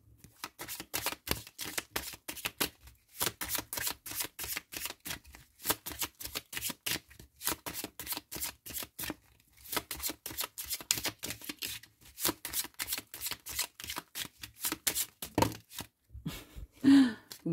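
Cartomancy cards being shuffled by hand, a long run of quick crisp riffling bursts with short pauses between passes, close and fairly quiet with no talking.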